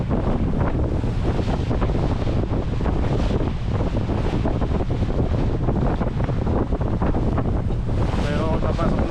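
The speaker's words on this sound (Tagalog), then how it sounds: "Bugbog na ako ng hangin na malakas." Strong wind buffets the microphone aboard a boat at sea near an island, a loud continuous roar and rumble with waves washing underneath throughout.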